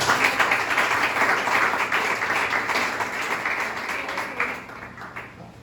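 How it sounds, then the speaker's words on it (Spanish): A church congregation gives a strong burst of applause during a Sunday morning service, dense clapping filling the room and gradually tapering off toward the end. "Denle ese fuerte aplauso a Dios en esta mañana."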